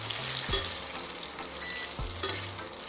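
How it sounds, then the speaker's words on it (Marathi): Half a kilo of dates fry in ghee for sugar-free dry fruit laddoos, a close bubbling sizzle with two distinct scraping stirs of a spatula against the pan. "आता ह्याच तुपामध्ये आपण अर्धा किलो खजूर परतून घेणार आहोत"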